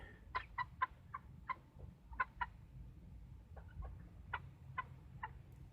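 Chickens, including splash and blue cockerels, cluck in short, separate bursts, a steady scatter of calls fairly close by against a quiet background in a backyard.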